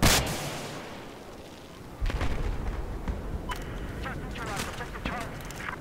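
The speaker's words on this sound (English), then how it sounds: "I'm sniping with this freaking rocket launcher" A rocket launcher in the Battlefield 4 video game fires with a sharp blast at the start, then a second heavy boom follows amid scattered battle noise, with a voice talking over the action.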